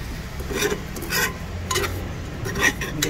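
Shellfish being dry-stirred in salt without oil, with a secret seasoning mixed in: repeated scraping, rasping strokes of a utensil against the pan, coming in uneven bursts at close range with no voices.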